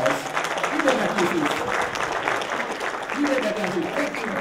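Audience clapping for two performers at a Christian magicians' fellowship program, a dense steady patter of hands at moderate level with faint voices mixed in.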